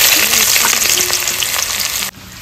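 Bay leaf, dried red chilli and whole cumin crackling in hot oil for a tempering, a loud close continuous sizzle that cuts off abruptly near the end.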